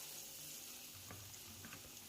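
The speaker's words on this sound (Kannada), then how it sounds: "ಕಬಾಬ್ ಕಾಯಿಸಿಕೊಳ್ಳಬೇಕು." Masala-coated chicken kebab pieces frying in oil in a pan, a faint, continuous low sizzle with a few soft pops and no speech.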